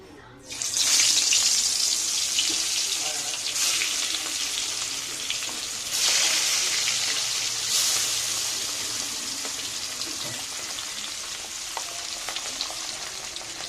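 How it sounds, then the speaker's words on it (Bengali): Pieces of katla fish frying in hot mustard oil, a loud crackling sizzle that flares up as the pieces go in and surges again a few times, staying steady and close throughout. "তেলটা গরম হয়ে গেলে একে একে ছেড়ে দেব মাছগুলো।"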